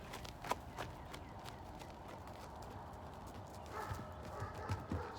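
Hooves of a young green horse step on the ground during groundwork, faint irregular footfalls under low background noise, with no talking.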